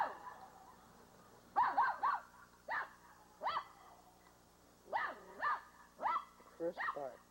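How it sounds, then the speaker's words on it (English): A young puppy barking at other dogs, giving a series of high, thin yips and short barks in irregular bursts, fairly close, with a person talking at moments. "She just discovered her bark. She's barking at all the other little doggies."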